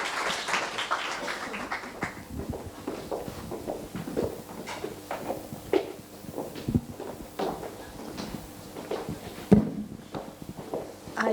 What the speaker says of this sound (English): give the two speakers a great applause